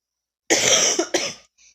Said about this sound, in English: I have a really bad cough right now